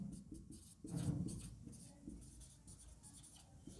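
Quiet scratching of pen on paper during a physics lesson: a close run of brisk, irregular strokes with brief pauses, faint overall and with no speech.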